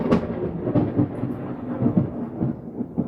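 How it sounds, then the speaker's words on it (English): Loud thunder from a nearby lightning strike rolls and rumbles for several seconds in uneven, crackling bursts, heavy and close with no voices. "that was a thunder lightning strike scary noise"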